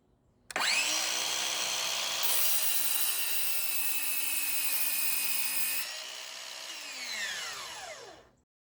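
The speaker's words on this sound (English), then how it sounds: "it was time to cut all the treated wood to size" A saw cuts through treated 3x2 timber for a raised garden planter, a steady loud rasping drone lasting several seconds before winding down and stopping, with no talking.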